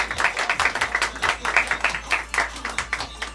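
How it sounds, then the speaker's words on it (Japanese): An audience at a beatbox battle in Tokyo claps in a series of loud, quick bursts, fairly close, with a low steady hum underneath. "大きな拍手をお願いいたします。"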